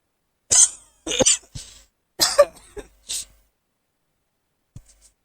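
A short series of close, sharp coughs, about five bursts in quick clusters, followed by a faint throat-clearing sound, with silence between.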